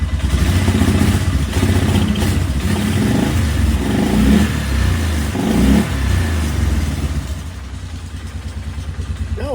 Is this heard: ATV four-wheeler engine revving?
yes